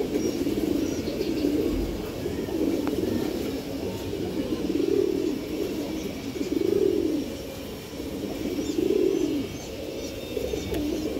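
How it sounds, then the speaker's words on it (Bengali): A pair of old-bloodline racing pigeons coo steadily and close, soft rolling calls repeating every couple of seconds over a faint background hiss. "এখানে এক জোড়া ভাগা কবুতর আছে, এটা পুরান ব্লাডের কবুতর"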